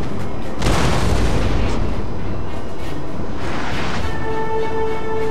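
Artillery cannon fire from a battery in the video game Napoleon Total War: a loud booming blast near the start with a rumbling tail, a second softer boom later, then a faint steady tone.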